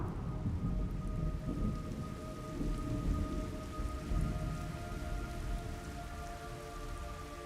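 Steady rainfall in the video game God of War, with a low, continuous rumble of thunder underneath, a constant wash of sound with no voices.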